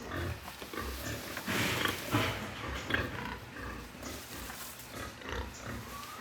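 Pigs grunt and snort close by in short, irregular bursts, a low rooty chorus with a few louder squeals.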